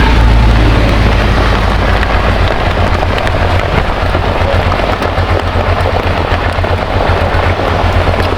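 Steady rain pours down nearby in Gumaca, Quezon, Philippines, with a dense, constant hiss and a low rumbling undertone, with no voices.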